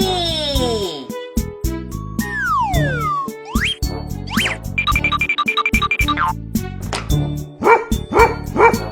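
Cartoon-style dog barks ring out as a sound effect within a children's alphabet song, mixed with music, chimes and other playful effects in a steady busy stream.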